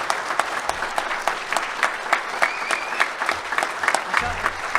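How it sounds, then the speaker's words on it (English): A room applauds the new head coach, Ben McCollum, at his 2024 introductory press conference, with a crowd of hands clapping in brisk, uneven bursts at moderate loudness and a few sharper claps standing out. "Everybody, one more round of applause for head coach."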